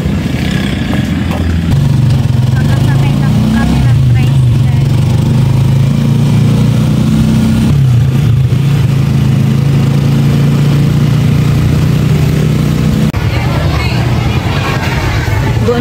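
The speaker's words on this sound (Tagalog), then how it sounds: "Nakasakay na po kami ng tricycle." Motorized tricycle engine running steadily during a ride, a loud mid-pitched drone with shifts in revs, and people talking over it.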